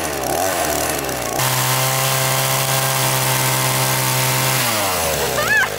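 A small petrol engine, taken for a lawnmower, catches and holds a steady loud drone for several seconds, with a rising whine before and a winding-down change near the end, set outdoors on a rural property.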